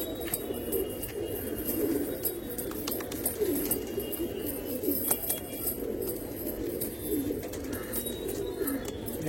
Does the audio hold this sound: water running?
no